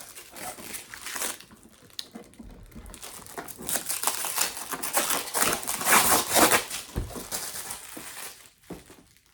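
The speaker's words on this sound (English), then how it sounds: "I'm just gonna take off all of the stickers and everything else like that." Stickers and plastic packaging peeled and crumpled off a new Cricut Explore Air 2 cutting machine, a close, continuous crinkling and tearing that swells and fades in irregular bursts.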